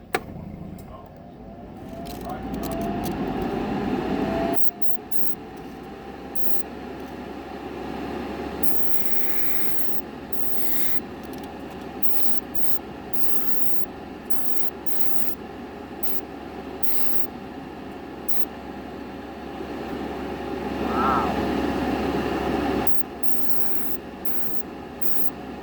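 A spray gun hisses steadily as it sprays chrome onto a front car bumper, a continuous fairly close mist of air lasting over twenty seconds with slight swells and a few faint clicks.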